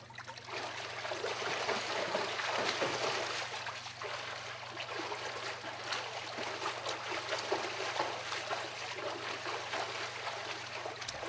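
A swimmer doing a back flutter kick in a pool without fins, churning the water into a continuous rushing, splashing wash that stays fairly steady and close for the whole stretch.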